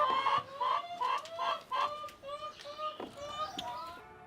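Farm hens cluck in a lively series of repeated calls, rhythmic and fairly close, each burst rising and falling with a few overlapping voices near the end.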